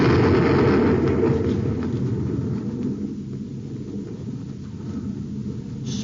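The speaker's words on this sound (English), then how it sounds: "He fired a torpedo." A torpedo explosion sound effect from an old-time radio science fiction show rolls out as a loud, deep rumbling blast that slowly fades over several seconds, heard alone without voices.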